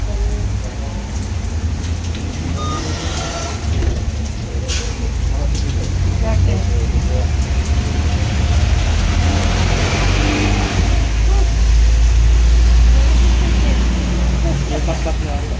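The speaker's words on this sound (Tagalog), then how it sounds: "Grabe yung ulan, guys." Heavy rain pours steadily and loudly, a dense continuous hiss with traffic rumble underneath that swells toward the end.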